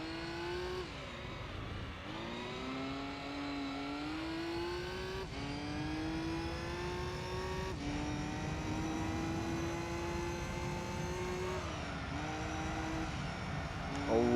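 An all-wheel-drive prize race car in Gran Turismo 3 drones on steadily with a strong, buzzy engine note. Its pitch climbs through each gear and dips briefly at the shifts, and the sound continues without a break with no talking over it.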